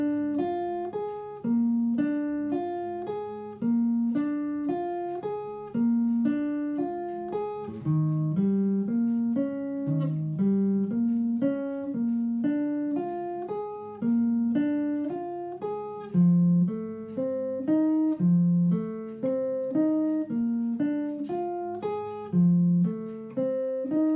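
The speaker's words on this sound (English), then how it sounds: "keeping the simple 4-note arpeggios and taking that through the sequence" Clean guitar playing simple four-note arpeggios through a 1-4-5 blues sequence, a steady, even stream of plucked notes moving through the changes, moderately quiet and heard alone.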